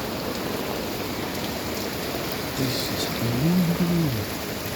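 Heavy rain falls on a village in a loud, steady, close wash of drumming drops, with a brief faint voice-like sound rising near the end.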